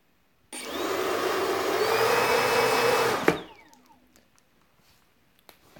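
Lift fan motor on a 3D printed RC hovercraft built on a CR-10 printer, driven by Afro 20A ESC and 4-cell 1400mAh battery, whirs loudly and steadily for about three seconds with a rising whine, then cuts off abruptly, leaving near silence.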